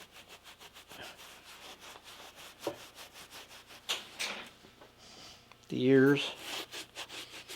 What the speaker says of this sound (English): So I rub the nose out. Come and I rub the eyes off.